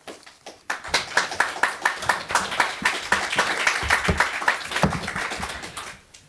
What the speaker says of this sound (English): join me in applauding our speakers, but you was much faster